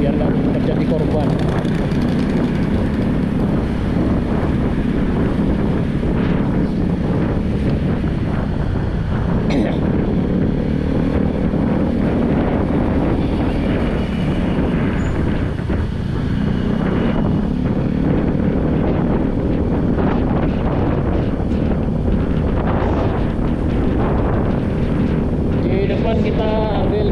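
Strong cyclone-driven wind roars continuously in Denpasar, Bali, a dense, loud, buffeting rush across the microphone with no letup, while a voice speaks intermittently underneath.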